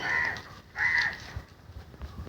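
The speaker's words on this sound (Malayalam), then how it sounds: "കാക്ക വിളിക്കുന്നുണ്ട്." A crow caws twice outdoors, two harsh calls about half a second apart, moderately close, followed by quiet background rustle.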